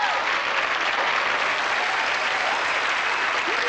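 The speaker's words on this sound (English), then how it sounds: "Why was Matt's mom applauding?" An audience applauding at a televised David Copperfield magic show from 1987, a dense, steady wash of clapping that holds throughout with no pause.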